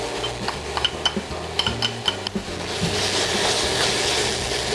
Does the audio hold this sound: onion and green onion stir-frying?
yes